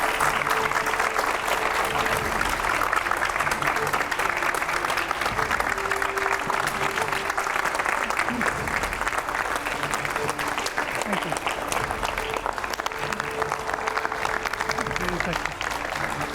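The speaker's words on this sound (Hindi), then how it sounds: "जोरदार तालियां तेमजिन इम्ना ओलोंग के लिए" A large audience claps steadily and loudly throughout, a dense continuous wash of applause with a speaking voice faintly underneath.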